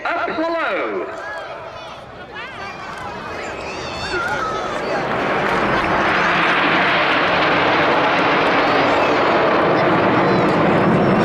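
Red Arrows jets at a Cleethorpes Armed Forces Day airshow sweep past, a rising roar that builds from faint to a loud sustained rush, with a commentator talking over the start.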